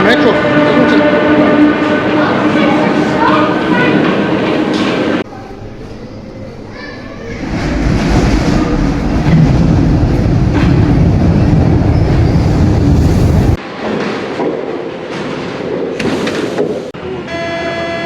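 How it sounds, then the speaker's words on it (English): A Paris metro train rumbles and clatters along the rails during a ride, loud and steady with shifts in tone as the carriage moves, while children's voices and other chatter carry through the car. "in Paris everything starts with a ride in the metro"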